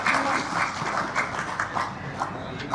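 Lawmakers in Indonesia's DPR parliament give a brief burst of dense, steady clapping in the plenary chamber.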